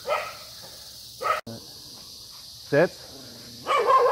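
Dogs bark at a newcomer dog in short separate bursts, close by, with a person giving commands between the barks.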